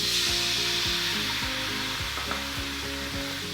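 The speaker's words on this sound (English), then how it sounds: "So the first step is we're gonna add some dry white wine." Dry white wine hits a hot pan for vegan seitan scaloppini piccata, giving a steady, loud broadband sizzle that holds throughout with no pauses, alone without any voices.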